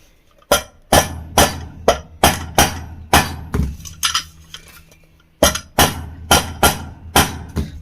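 Metal pressure cooker part being tapped with a hammer during a repair, a series of sharp clinking strikes in a steady rhythm, close and loud, with a short pause midway before the taps resume.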